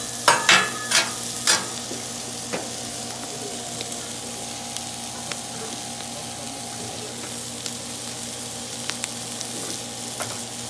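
Thin-sliced beef frying in hot grease for Asian-style beef, a steady broad sizzle running throughout, with a few sharp clinks and scrapes of a utensil near the start and occasional light ticks.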